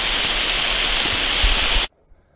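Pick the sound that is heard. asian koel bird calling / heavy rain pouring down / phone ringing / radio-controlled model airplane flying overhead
heavy rain pouring down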